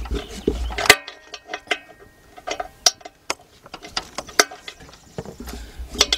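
A ratchet turns a bolt on a 2004 Nissan Maxima with a 3.5 engine, producing irregular clicking and metallic ticks in short bursts, close and moderately loud with no talking.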